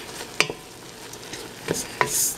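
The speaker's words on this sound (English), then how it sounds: "Stir it very well." Stuffed bell pepper filling seasoned with black pepper and garlic powder is stirred in a pan, giving a few sharp scrapes and clicks over a soft sizzle.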